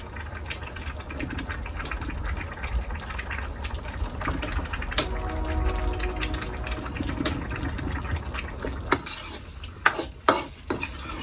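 Asparagus and shrimp sizzle and are stirred in a wok with a little water, a spatula scraping and clinking against the metal, a few sharp knocks near the end.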